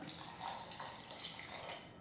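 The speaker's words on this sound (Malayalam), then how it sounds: "ഇനി കുറച്ച് വെള്ളം ഒഴിച്ചു കൊടുക്കാം" Water pours into a mixer jar in a short, steady rushing stream, quiet and close, with no talking.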